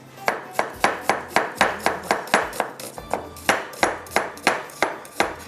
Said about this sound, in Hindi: इतनी देर में हम इसकी प्याज को कटिंग करके डालेंगे